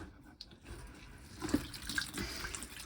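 Water drains from the drain-off valve of a Worcester boiler. It makes a soft, low trickling and gurgling that builds slightly after a quiet start, close by and with no talk.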